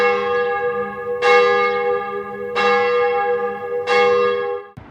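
The large bell in the Castillo de San Marcos tower at St. Augustine rings three times at an even slow pace, each loud metallic strike followed by a long shimmering decay.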